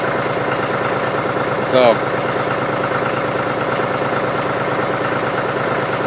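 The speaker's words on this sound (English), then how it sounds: "that's my cold start pretty much. And so you can see the John Deere 5103. Took 2 tries to start." John Deere 5103 tractor engine idling after a cold start, a steady low rumble held at an even level, with a brief spoken word near the two-second mark.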